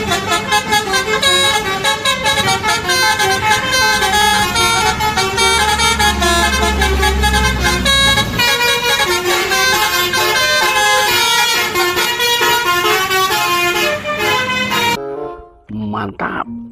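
A PO Haryanto bus sounds its telolet horn, a loud, sustained run of melodic toots that plays continuously and cuts off near the end, leaving only faint background noise.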